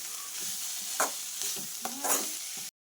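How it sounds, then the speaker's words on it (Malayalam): Gravy fries in a pan while being stirred, a continuous close sizzle punctuated by a few scraping strokes of a spoon, ending in a sudden cut to silence. "നന്നായിട്ടൊന്ന് ഇളക്കി മിക്സാക്കി കൊടുക്കണം."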